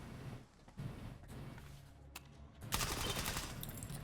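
Sustained full-auto fire from the AS Lavina rifle in the video game Stalker 2, preceded by a few quieter shots, then a dense, loud rattling burst over the final second and a half.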